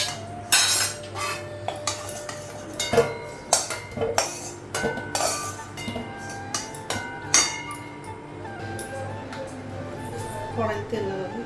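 Metal utensils clink and clatter in a home kitchen as a pressure cooker is taken off and a wok is set on the stove, with sharp irregular knocks and a voice speaking underneath.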